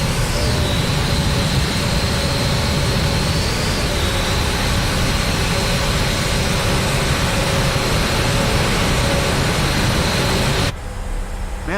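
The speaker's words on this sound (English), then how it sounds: "I'm going to back the aircraft sounds down just a little bit as we start to taxi here." Steady, loud aircraft engine drone inside Microsoft Flight Simulator 2020 at an airport before taxiing, a constant low roar with a faint high whine that cuts abruptly quieter near the end.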